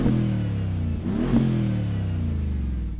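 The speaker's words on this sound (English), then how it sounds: "So I'm going to rev this one." A Mercedes-AMG G63 SUV engine idles, then revs sharply once and settles back to a deep, steady idle, close by.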